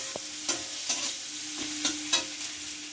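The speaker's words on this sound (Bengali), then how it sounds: "তেল গরম হয়ে গেছে, এবার কুচিয়ে রাখা পেঁয়াজগুলো দিয়ে দিচ্ছি। পেঁয়াজগুলো হালকা করে ভেজে নেব।" Chopped onions frying in hot oil in a pan, a soft steady sizzle broken by a handful of sharp stirring scrapes about every half second.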